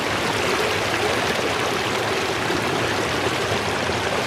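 Flowing stream water on a backcountry hike near Hayden Lake at dusk, a steady, full broadband rush that stays loud and even throughout with no pauses, close to the bank and with no voices.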